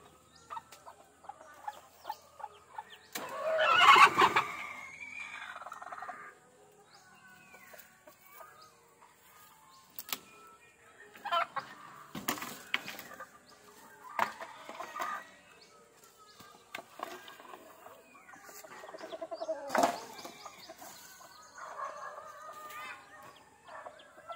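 A backyard hen of a Kelso gamefowl line clucks close by in scattered bursts, with softer chick peeps and quiet pauses in between.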